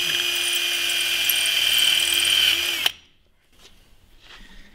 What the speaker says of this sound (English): and you drill the other set.